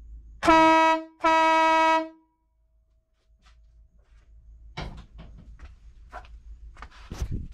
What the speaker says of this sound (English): done wiring up the horn, and I see absolutely no reason why it will not work